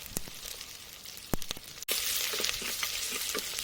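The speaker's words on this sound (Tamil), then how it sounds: "கொஞ்சம் அந்த இஞ்சி பூண்டு பச்சை வாசனை போகிற வரைக்கும் வதக்கிக்கலாம்." Ginger and garlic, some garlic skins left on, sizzle and fry in a pan for a pork roast, a steady loud crackle that jumps brighter midway as stirring clatters in, with no talk.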